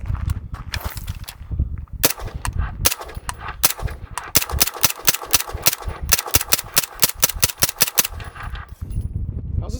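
Suppressed 9mm submachine gun fitted with a Mojave 9 suppressor: a long string of sharp, fairly muted shots fired in quick, even succession, close to the mic, with a steady rumble between shots.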